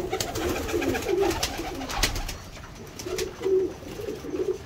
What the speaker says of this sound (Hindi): ये हमारा बड़ा कबूतर है, बहुत ही ज़्यादा कमाल का कबूतर है